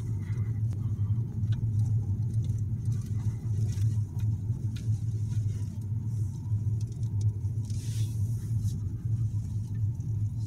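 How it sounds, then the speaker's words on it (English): Cars idle and roll to a stop on a road through a wildlife ranch, a steady low engine rumble throughout with faint birds chirping in the background. "I saw a couple cars stop."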